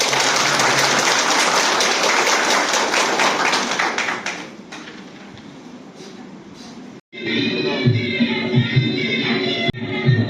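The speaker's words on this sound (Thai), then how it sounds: "ขอพวกเราปรบมือเป็นการต้อนรับคณะกรรมการนะครับ" A welcoming crowd at a Thai subdistrict office claps for a visiting committee, a dense roar of applause that thins and fades, then a brief break before a voice carries on over room noise.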